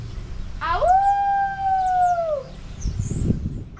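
A person lets out a long, rising-then-level howl imitating a dog, held for a couple of seconds before trailing off into quiet background noise.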